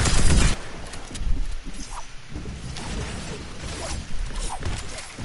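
Gunfire in the video game Fortnite, rapid crackling bursts and mechanical clatter opening loudly, then continuing in scattered rattling shots from more than one direction.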